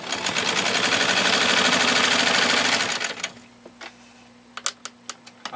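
A 1949 Domestic 153-MG sewing machine stitches through 12 layers of tough canvas binding tape with a loud, fast, steady mechanical rattle for about three seconds, then stops, followed by a few sharp clicks.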